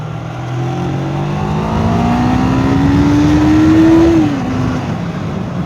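A family car's engine is pushed at full load while driving in traffic, its pitch rising steadily in a loud, close rev for about four seconds before it drops back at the shift and settles to a lower drone.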